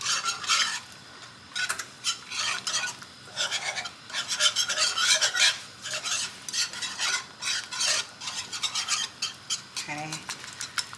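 A metal whisk scrapes and rattles against a pan while a sauce for a pasta bake is stirred to smooth out lumps, rapid rhythmic strokes in bursts, close and fairly loud.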